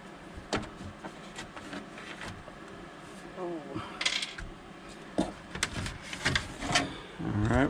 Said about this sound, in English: So I started pulling the screws out, and we're gonna see what it looks like